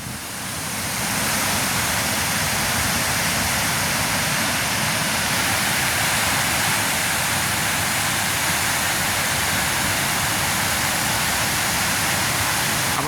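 Floodwater from a village tank after heavy rain, rushing loudly over the tank and carrying away gravel, a dense, continuous roar of churning water close by, steady throughout with no voices.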